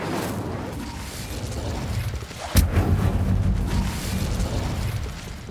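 In Hogwarts Legacy, an Incendio fire spell goes off as a sudden sharp burst midway, rising out of a low mechanical game rumble and followed by a brief crackling tail.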